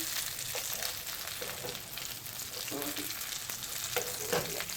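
Fish fritters sizzle steadily in hot oil in a pan at a catch-and-cook, a dense continuous crackle with occasional louder spits and small knocks as pieces are turned.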